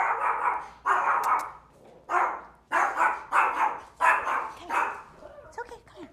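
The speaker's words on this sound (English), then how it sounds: "Small little baby bark." A small dog gives a run of about seven loud, close, sharp barks in quick succession, with short pauses between bursts, ending in a few softer yips.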